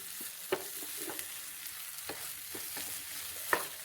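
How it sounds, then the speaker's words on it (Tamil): Egg paneer roast is stirred in a pan over a soft background sizzle, with occasional spatula scrapes and taps against the pan, close and without talking. "ஒரு ஜெண்டில் அப்படி மிக்ஸ் பண்ணி விடுங்க."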